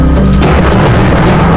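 Gunfire in a movie scene, one loud, close, booming blast that fills the short moment and then holds as a heavy rumble.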